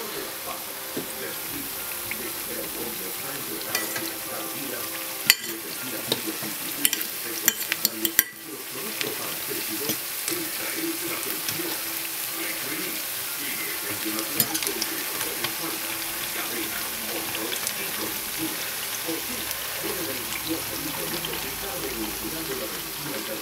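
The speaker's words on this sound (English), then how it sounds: "You want to fry them on one side and then flip them over." Plantains frying in oil in a frying pan give off a steady, dense sizzle and crackle throughout, with a few brief clinks of a utensil against the pan.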